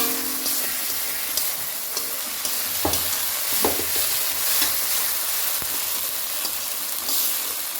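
Small fish curry with tomato and turmeric frying in a pan, a steady broadband sizzle with a few scraping stir strokes of a spoon, close and continuous, no voices.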